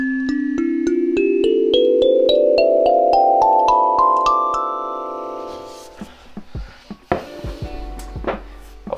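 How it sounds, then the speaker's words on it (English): Ling Ting kalimba played as a quick rising run of plucked tines, each note ringing and overlapping into a sustained shimmer, followed by a few seconds of soft handling knocks and rustles. "Next up I have the Ling Ting, sounds like this."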